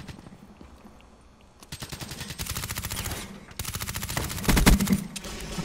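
Rapid automatic gunfire bursts from the game Black Ops 3, starting after a quiet stretch and growing louder, with sustained machine-gun volleys and a heavier burst near the end.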